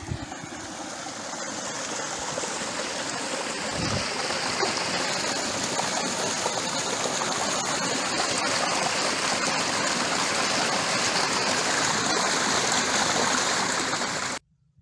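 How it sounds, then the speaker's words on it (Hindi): A forest stream flows smoothly while water falls onto stones, making a steady, close rushing that runs unbroken for about fourteen seconds and then cuts off abruptly. "अब पत्थर पे पानी के गिरने की आवाज़ और स्मूथ फ्लो वाटर की आप आवाज़ सुनेंगे।"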